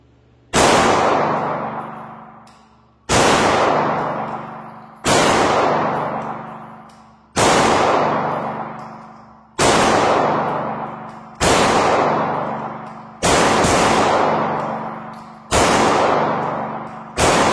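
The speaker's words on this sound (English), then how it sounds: "we'll get started shooting here. We'll go 13 round mag first." Pistol fired from a 13-round magazine: eight loud, sharp shots spaced a little over two seconds apart, each with a ringing decay, close to the listener and with no talking.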